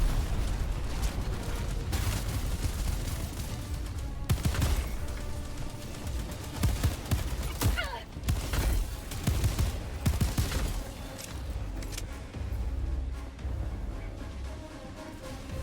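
In the video game Helldivers 2, enemy machine gunners fire in dense, rattling bursts mixed with heavy booms and explosions during a chaotic battle. The gunfire is loud and nearly continuous, with brief lulls between volleys.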